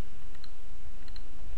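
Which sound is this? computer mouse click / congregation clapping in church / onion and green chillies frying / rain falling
computer mouse click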